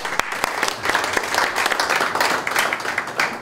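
Brisk applause at a general assembly of the East Asia Special Olympics taekwondo body, as members approve a motion with a steady patter of clapping hands in a meeting room.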